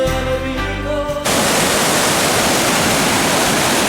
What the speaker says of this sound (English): As the waters tumble and crash down this mountainside with the foam and the white in the water